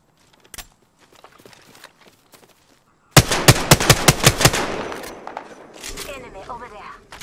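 Rapid automatic gunfire in Apex Legends, a loud close burst of about ten sharp shots followed by further fire and clatter, after quieter scattered noises.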